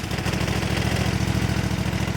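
Cub Cadet lawn tractor engine running at idle, a close, steady low putter with even rapid firing pulses, heard alone without talk.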